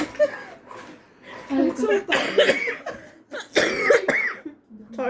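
Several bursts of coughing broken up by breathy laughter, close and fairly loud, with short pauses between fits, during a tongits card game.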